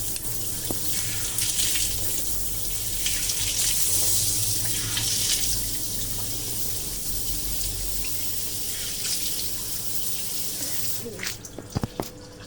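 Tap water runs steadily into a sink during face washing, a constant close splashing rush that changes slightly as hands move through it, then cuts off near the end with a few drips and clinks.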